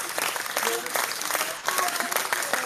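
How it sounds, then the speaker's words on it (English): A group of people claps in a burst of dense, lively applause, dipping briefly midway before picking back up, with faint voices mixed in underneath. "Who's clapping?"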